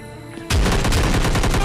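Gunfire in PUBG Lite, a mobile battle royale game: after a short quiet lead-in, a loud, sustained burst of rapid automatic shots fires close up.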